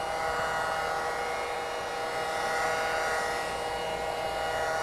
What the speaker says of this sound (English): so when I'm polishing, if I want to do some cutting, I'm going to cut away from it and follow that seam.